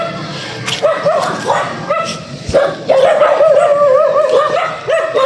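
Several dogs on a forest hiking trail on Mt. Sembrano bark, yip and whine repeatedly at close range, the calls overlapping in an excited, uneven chorus with some voices mixed in underneath.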